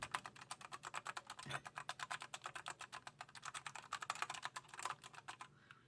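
Rapid, steady clacking of RK Royal Kludge RK84 mechanical keyboard letter keys pressed one after another, close and crisp, with no voices.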